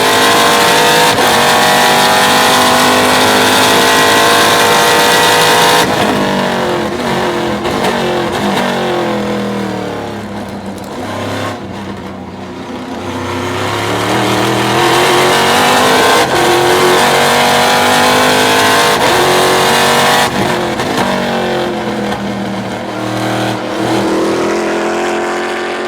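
A Trans Am race car at the Portland race, heard onboard as a loud, unbroken engine roar that rises through the gears, dips while lifting off, then climbs again in hard acceleration.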